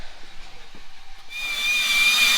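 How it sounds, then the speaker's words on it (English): Ball hone spinning inside the line bore of a Cummins 5.9 engine block, starting as faint scraping, then rising after a moment into a steady, loud, high-pitched whirring grind that holds to the end. "so we're ball honing the bores just to make sure there's not any burrs or anything in there"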